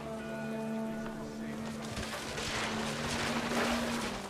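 Heavy rain falls on a beach in What Remains of Edith Finch, a steady dense hiss with a low hum beneath, continuous and moderately loud throughout.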